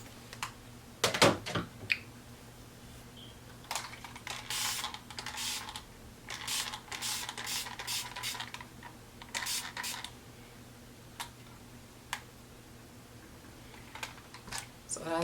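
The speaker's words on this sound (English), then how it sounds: "that's all we're gonna do as far as spraying" A handheld spray bottle mists conditioner onto a small section of natural hair, with a series of short, crisp, hissing sprays spaced a second or two apart, fairly close and quiet.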